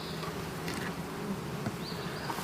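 Honey bees buzz steadily around a hive feeder, a close, continuous droning hum with individual insects passing near, and no talking.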